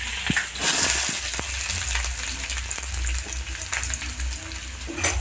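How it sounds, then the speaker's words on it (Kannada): Onions frying in hot oil for a breakfast dish, a steady close sizzle with bright crackle, scraping stirs and the occasional clink of a utensil, no talk. "ಅದು ಗೋಲ್ಡನ್ ಬ್ರೌನ್ ಬರೋ ತನಕ ಸ್ವಲ್ಪ ಎಣ್ಣೆಯಲ್ಲಿ ಹುರಿತಾ ಇದೆ."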